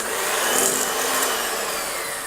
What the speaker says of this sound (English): So I'm going to use the mixer now for this.